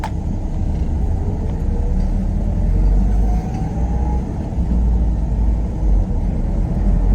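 A manual Dodge Dakota pickup truck drives along with a loud, steady engine and road rumble heard from inside the cab, its drone rising and dipping slightly through gear changes.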